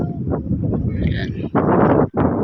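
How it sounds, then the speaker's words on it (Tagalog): Strong wind buffets the microphone in heavy roaring gusts at a fish feeding area in Nasugbu, Batangas, swelling and dropping abruptly. "Ay napakasura naman ang hangin dito ngayon sa area ng fish feeding"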